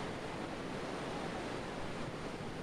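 The Provo River rushes at high late-spring flow, a steady, loud, broadband roar of water with no pauses and no voices.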